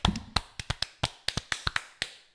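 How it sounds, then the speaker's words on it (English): A small scattering of hand claps, about a dozen sharp, separate claps at an uneven rhythm, close and fairly quiet, with no voices. "Can we get a round of applause?"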